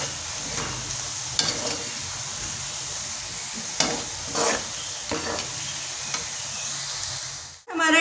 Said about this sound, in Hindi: प्याज हमारा ब्राउन होना शुरू हो गया है, इसको अभी हमने मज़ीद हल्का और फ्राई करना है।